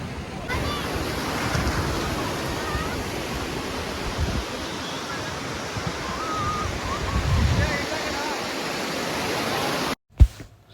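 Sea waves wash in at Malpe Beach in Udupi, a broad continuous roar of surf with wind buffeting the microphone and faint voices of beachgoers in the background, cut briefly near the end.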